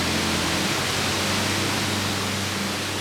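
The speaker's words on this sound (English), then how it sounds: "Hear that beautiful breeze?" Steady, even rush of breeze, like soft wind blowing outdoors, constant and moderately quiet with a low hum beneath and no voices.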